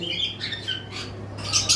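Cockatiels and lovebirds kept together as pet birds squawk and chirp close by, with several harsh calls overlapping above a steady low hum.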